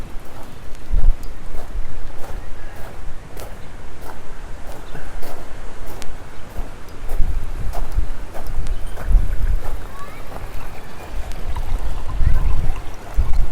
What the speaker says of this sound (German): Das Wind trubelt das Wasser ein bisschen hier